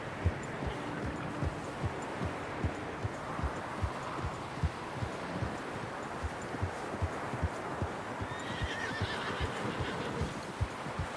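Horse in Red Dead Redemption 2 giving a soft, distant whinny partway through, over a steady clip-clop of hooves and quiet rustling ambience.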